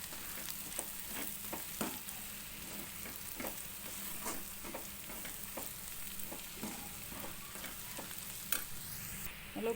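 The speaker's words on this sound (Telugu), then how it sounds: "పచ్చివాసన పోయిన తర్వాత ఉప్పు, పసుపు, కారం ఈ మూడు వేసేసుకుని బాగా కలుపుకోవాలి." Salt, turmeric and chilli powder being stirred into frying masala for spicy egg curry, a constant low sizzle broken by regular scraping strokes of the spoon against the pan, close and with no voices.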